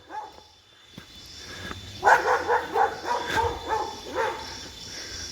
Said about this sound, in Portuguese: cães querendo briga